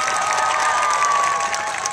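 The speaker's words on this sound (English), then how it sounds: "Now, applaud again and go for speed." An audience at a Morgan horse show applauds: a short, loud burst of dense clapping from a crowd, lasting about two seconds.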